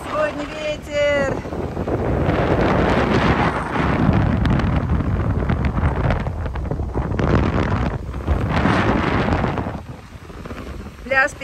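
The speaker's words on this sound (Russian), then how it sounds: "Вот такой сегодня ветер." Strong wind on a sandy beach at Iztuzu, Dalyan, Turkey buffets the microphone with loud roaring gusts, surf faintly beneath, and a brief voice near the start.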